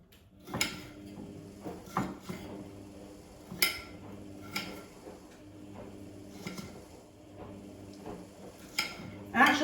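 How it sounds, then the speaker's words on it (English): A knife chops pepper on a board into chunky pieces, making irregular clacking strikes spaced about a second apart, close and moderately loud, with quieter handling sounds in between. "So I'll just chop all this up as well"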